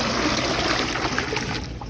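Cold tap water runs steadily into a stock pot with chicken bones, a continuous broad splashing rush with no talking.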